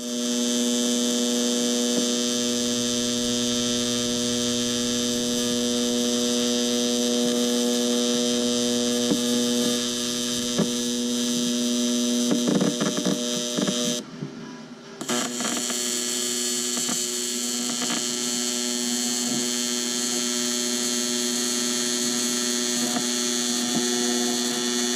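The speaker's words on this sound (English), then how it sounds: "Let's weld this." Steady electric welding buzz from a 220-volt welder fusing a Greddy blow-off valve flange onto the intake pipe of a boosted Honda CRX. It holds for about 25 seconds, close and continuous, with one brief break near the middle.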